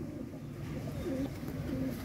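Soft, low cooing of pigeons at feeding time repeating a few times against a steady background murmur, fairly close.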